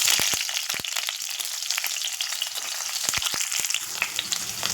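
Chopped onion frying in oil in a pan, a constant bright sizzle broken by sharp crackling pops and a few stirring scrapes, close and steady with no talk.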